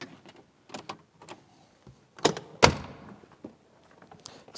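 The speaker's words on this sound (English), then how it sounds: "let me just unlock this back door" Back door of a Land Rover 110 being unlocked and opened, a series of small clicks and taps followed by two sharp metallic latch thunks close by, then a softer rattle as the door swings.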